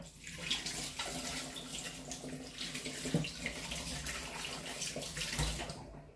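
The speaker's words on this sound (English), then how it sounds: "So let me wash my hand before I open the oil." Steady running tap water splashes as hands are washed under the faucet, continuous and close with small changes in the flow, no voices.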